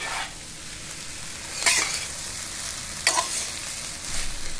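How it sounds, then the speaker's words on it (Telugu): Vegetable fried rice is stirred gently in a pan over a continuous close sizzle, with two brief metallic scrapes of the spatula standing out and no talking. "మెల్లిగా ముక్క విరక్కుంటా, అది రైస్ అలాగే విరక్కుంటా నీట్గా కలుపుకోవాలి"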